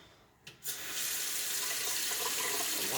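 Tap water at a kitchen sink turns on after a brief clunk and then runs as a steady, loud, close rushing stream for the rest of the moment, no voices.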